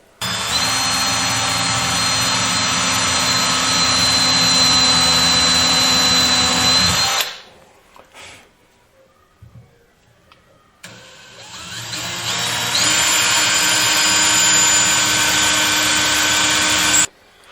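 A power drill whines steadily for several seconds boring 3.5 mm holes in a hardwood cutting board, stops with a few quieter knocks, then runs again at high speed before cutting off.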